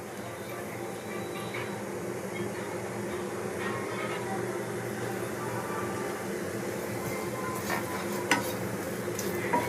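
Potatoes fry on a low flame with a soft, continuous sizzle and faint stirring clatter, and occasional sharper clicks near the end.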